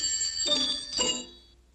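Tinkling fairy bells of Tinker Bell ring out as two bright, shimmering chime bursts close together, each ringing on briefly before fading away alone.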